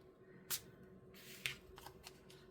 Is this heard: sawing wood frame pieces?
no